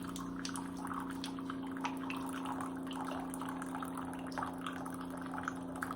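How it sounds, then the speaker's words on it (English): Water from a Keurig K-Elite single-serve coffee maker splashes and trickles at low level over a steady machine hum, without voices. "See it splash at me? That wasn't very nice."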